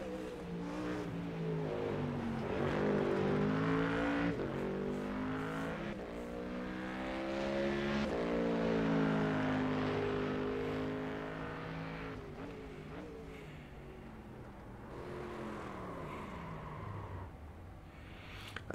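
A Ford Mustang GT3 race car in iRacing revs hard, its engine note rising and falling through gear changes as it passes, loud and continuous, then fades to a lower rumble, with no talking.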